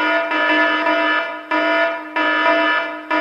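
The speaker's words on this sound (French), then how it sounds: "comment j'éteins l'alarme?" A loud electronic alarm in a school classroom rings in long harmonic blasts, pausing briefly about every second and a half, repeating three times.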